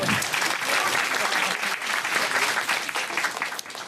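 Steady, dense applause from an indoor audience at a public meeting on child-rearing with the president, loud and continuous for several seconds before tapering slightly.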